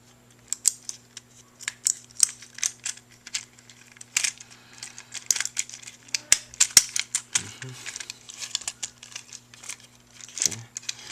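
Plastic arms of a Transformers ROTF Tuner Mudflap toy fold in with small, close clicks and snaps at irregular intervals, over a faint steady hum.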